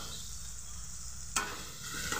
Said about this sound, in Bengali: ভালোভাবে মশলাটাকে এবার কষাবো।